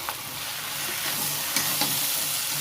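Cabbage and green peas stir-frying in a pan for a cabbage chicken dish, with a steady close sizzle and a few soft scraping stirs of a spatula, no voices.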